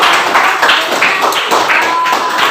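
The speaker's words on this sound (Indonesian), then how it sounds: "beri tepuk tangan untuk teman kalian" A class in an Indonesian language lesson claps for a classmate, with quick, rhythmic hand claps sounding close and fairly loud throughout.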